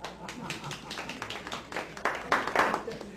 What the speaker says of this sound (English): Give yourself a hand clap.